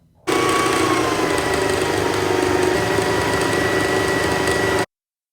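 A sewing machine stitches the armholes of a shirt closed, starting abruptly into a loud, steady mechanical whir that holds evenly for about four and a half seconds before cutting off.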